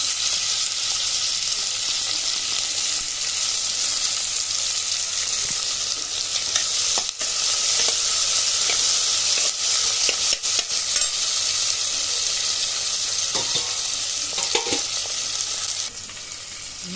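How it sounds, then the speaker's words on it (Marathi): Chopped onion and tomato fry together in a pan for moong dal khichdi, giving a steady close sizzle with occasional stirring scrapes and no voices. "हे बघा, असं आपण फ्राय करून घेणार आहोत।"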